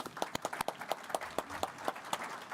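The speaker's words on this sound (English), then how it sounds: "maybe another round of applause, please" A round of applause at a municipal awards convention, the claps sounding as a fairly sparse, uneven patter of individual hands rather than a dense roar, heard at moderate distance.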